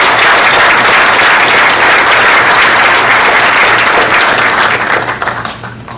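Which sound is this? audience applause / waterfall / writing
audience applause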